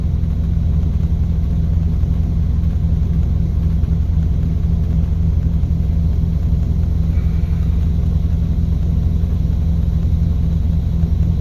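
A pickup truck's engine idles steadily, a continuous deep rumble with constant low vibration, loud and unbroken, with no talking.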